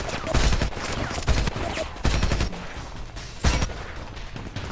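Loud gunfire in the Homefront video game, with several sharp heavy shots and bursts standing out over a continuous clatter of battle noise.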